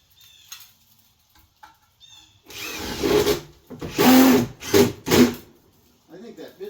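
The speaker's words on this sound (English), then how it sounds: "And then I got some joist hanger screws here I'm going to use." Power drill driving joist hanger screws into wood while building economical mezzanine stairs, heard as several loud bursts of whirring with short pauses between, after quieter handling noises at the start.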